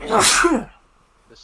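A single sharp, close sneeze lasting about half a second, followed by near silence and a faint brief word afterward.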